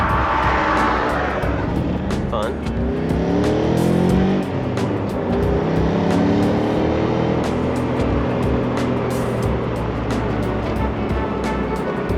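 BMW E34 540i with traction control off, revving hard as it spins its tires: a loud, rising and falling engine roar with sweeping tones, and a brief harsh squeal near the start.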